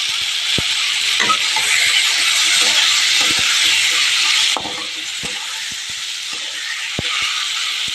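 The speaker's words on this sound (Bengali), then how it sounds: "এবার আমি এটা একটু ভেজে নেব।" Sliced eggplant frying in a pan, a steady close sizzle with scattered crackles and small clicks of stirring running throughout, softening slightly midway; no one talks.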